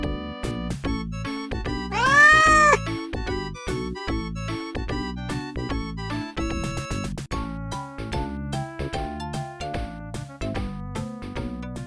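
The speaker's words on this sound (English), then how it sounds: "So the meowing develops into a second language to communicate to people." A domestic cat gives a single drawn-out meow, loud and close, rising and falling over a steady background of music.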